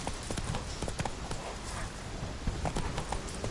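Roach, a horse in The Witcher 3 video game, gallops with rapid, steady clip-clopping hoofbeats throughout, close and loud over a busy background of game sound.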